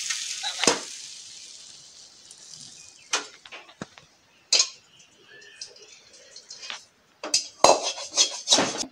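Food frying in a pan under a banana-leaf cover, a soft sizzle fading over the first seconds, then scattered clinks and scraping of utensils with brief bursts of sizzling near the end.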